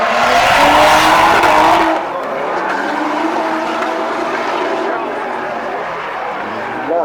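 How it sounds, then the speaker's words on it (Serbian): A Nissan Skyline RB-engined drift car at a drift event, its loud engine roar and screeching tyres filling the first two seconds before fading into a more distant, droning pass as commentary carries on. "Koliko snage samo ima taj RB motor iz Sistem Skyline-a"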